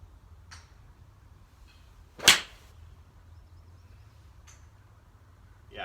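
One crisp, sharp impact of a Ping G 3 crossover golf club striking a ball rings out alone over a quiet outdoor background hum, with a few faint ticks around it.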